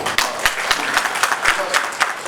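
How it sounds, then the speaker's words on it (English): An audience at a geothermal energy meeting breaks into a round of applause, a dense, sustained clapping close by with a few sharper individual claps standing out. "I request all again to have a great round of applause for him."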